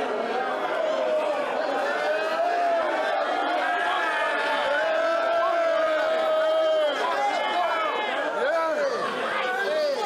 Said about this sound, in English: You see the crowd's reaction?